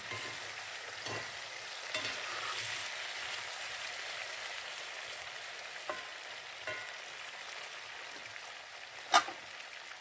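Potato pieces sizzle steadily in a cast-iron kazan over an outdoor wood-fired stove, a soft continuous frying hiss with occasional pops and a sharp clink near the end.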